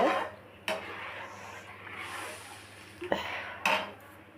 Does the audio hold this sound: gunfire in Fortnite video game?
no